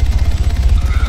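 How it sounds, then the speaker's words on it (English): A helicopter in the video game ArmA throbs overhead with a steady, loud low-pitched rotor pulse, with no talking. "This fucking chopper's starting to piss me the fuck off."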